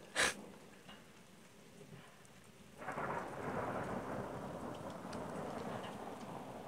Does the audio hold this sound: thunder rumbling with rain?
yes